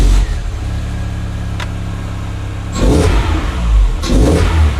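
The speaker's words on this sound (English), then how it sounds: "now we've got a little bit of induction noise" Car engine fitted with a new cheap aftermarket air filter on a budget build, idling then revving twice with audible induction noise, close and loud, no talking.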